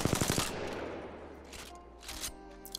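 Rapid automatic gunfire from an R99 or R301 in Apex Legends: a dense burst of fast shots up front that trails into echoing decay and scattered game effects, with a few fainter shots later.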